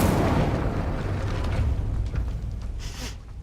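A fiery Incendio spell cast in Hogwarts Legacy roars out as a loud, broad whooshing burst that slowly fades over a few seconds, with crackling flickers trailing near the end.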